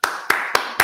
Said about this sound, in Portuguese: Palmas para mim, né, cara?